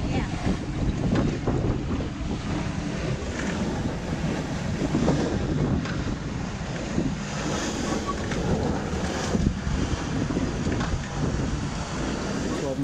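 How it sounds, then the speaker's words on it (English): Strong wind roars across the microphone aboard a sailboat close inshore, with water rushing and splashing along the hull in a continuous, unbroken wash. "12 knots all day, so it's actually doubled its wind speed because we're close inshore to land"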